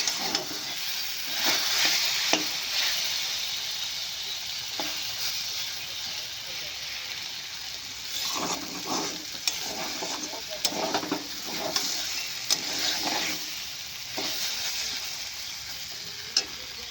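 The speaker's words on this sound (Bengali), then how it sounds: "মশলা দিয়ে শুধু কষবেন, জল দেবেন না।" Taro stolons frying with spices in a pan, a steady close sizzle broken by irregular scrapes and knocks as they are stirred throughout.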